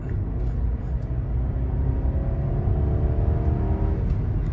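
A BMW 330i or 530i with a B48 engine speeds up in traffic, its engine note rising steadily as a smooth, moderate drone under steady road rumble.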